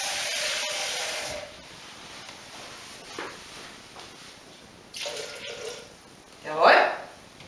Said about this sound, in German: fehlt noch ein bisschen, füllen wir einfach mit Wasser auf.